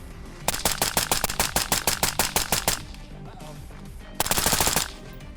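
Rifle fitted with a Fostech Echo Sport binary trigger firing a rapid burst of about twenty sharp, evenly spaced shots, a pause, then a second quick burst, loud and close, with no talking.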